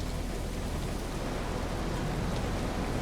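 Steady, dense rain pours down in the video game The Caribou Trail, a continuous broadband hiss with no pauses.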